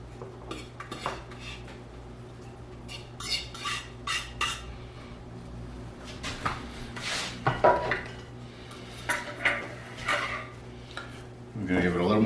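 Homemade Caesar salad being served into a bowl for dinner, with utensils clinking and scraping against dishes in a quick, irregular run of close taps that grows busier toward the end.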